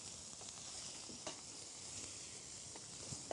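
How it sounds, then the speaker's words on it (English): Squid and rice sauté in a hot pan, giving a steady, close sizzle with small pops and the occasional scrape of stirring, with no talking. "And we saute the squid."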